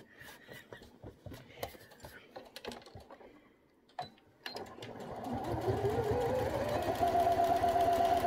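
A sewing machine stitches a fabric face mask, starting after scattered clicks and handling noises and building into a steady, whirring run that grows louder and holds to the end.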